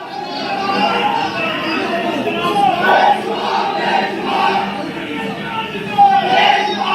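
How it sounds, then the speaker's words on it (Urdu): A street crowd of Imran Khan supporters, lawyers among them, chants 'Imran Khan Zindabad' in Sahiwal, Pakistan: massed voices rise and fall in a steady, loud, continuous roar of slogans. "عمران خان زندہ باد کے نعرے لگ رہے ہیں"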